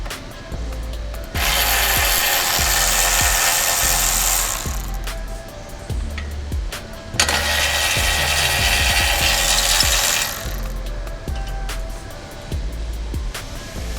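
Ratchet wrench clicking in fast bursts while brake line brackets come off the lower control arm of a 2021-2025 Chevrolet Suburban rear suspension, two long stretches of rapid ratcheting separated by shorter clicks and metallic handling, close and clear.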